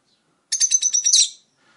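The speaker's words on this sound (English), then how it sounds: "there's the lovebirds." Pet lovebirds, a yellow male and a green female, chirp in a quick run of about eight bright, close tweets that lasts under a second, then stops, with no talking.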